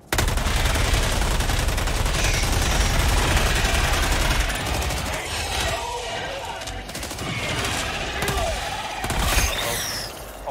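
Dense, sustained automatic gunfire from squad weapons in Helldivers 2 keeps up for several seconds without a break, then eases into scattered shots and game effects while players talk over it.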